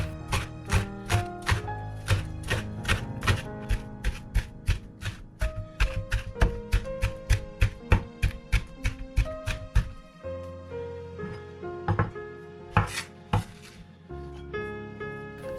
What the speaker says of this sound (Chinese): 将葱切成葱花